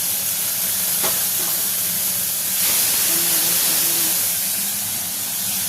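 Steady hiss of water poured into hot spice masala frying in a pan, a broad sizzle and steam rush that stays loud and continuous throughout, with a few faint clinks.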